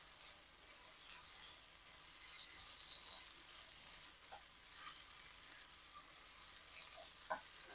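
Ginger garlic paste fries in a pan with tomato and onion, giving a quiet continuous sizzle and crackle with occasional faint clicks of stirring, and no one talking.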